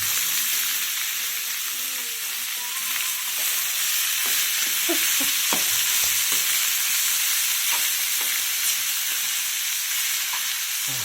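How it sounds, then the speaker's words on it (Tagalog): Snails (kuhol) frying in a pan, a steady close sizzle with scattered crackles and pops and no talking. "Crispy fry."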